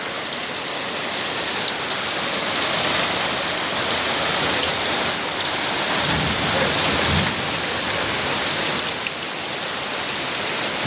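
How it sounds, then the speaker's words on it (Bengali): Heavy rain pours steadily on a rural home's roof, a dense, loud, continuous hiss with a brief low rumble partway through. "দেখেন কেমন বৃষ্টি হচ্ছে।"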